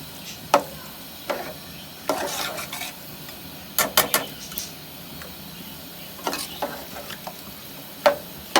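A spoon scrapes and clinks against a cooking pot while potato pulao rice is stirred, with scattered sharp metallic knocks and soft scraping at moderate volume.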